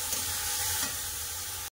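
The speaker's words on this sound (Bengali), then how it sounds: "এবার যে মশলাটা আমি বেটে দিয়েছিলাম সেটা দিয়ে দেবো। আদা রসুন কাঁচা লঙ্কা পেঁয়াজ খুব ভালো করে কষে দেবো" A ground paste of ginger, garlic, green chilli and onion fries in a pan, a close, continuous sizzle with a faint stirring scrape. It runs just under two seconds, then cuts off abruptly, with no voices.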